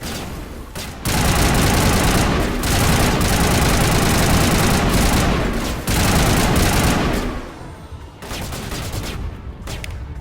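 Dense, sustained gunfire from the Mass Effect game, a loud continuous barrage of shotgun blasts and combat noise lasting several seconds, easing off near the end.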